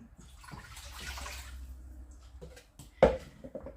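Half a litre of water poured into a pot to make syrup for candied apricots, a soft rushing splash for about two seconds, followed by a sharp knock as the container is set down.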